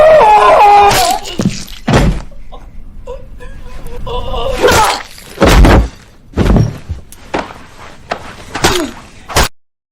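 A man's head is repeatedly smashed with a meat tenderizer in the horror film You're Next: a series of heavy, close, irregular thuds and blows, mixed with wailing and moaning cries between the hits.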